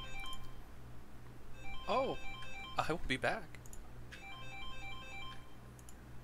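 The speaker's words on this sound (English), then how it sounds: "would you look at that? I'm getting a phone call." A phone ringtone for an incoming call plays as a repeating run of bright electronic melody tones, with a voice briefly speaking over it.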